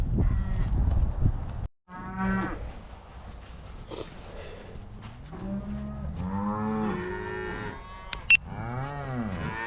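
Cows penned up on a ranch moo repeatedly, loud and near, with long drawn-out calls overlapping one another and a brief pause early on.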